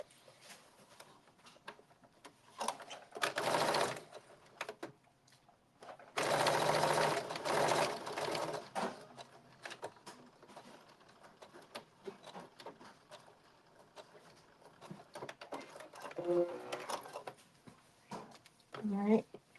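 Short bursts from a sewing machine stitching a blazer seam along its edge, two brief runs close by, the second longer, set among quiet handling noises and light fabric rustling.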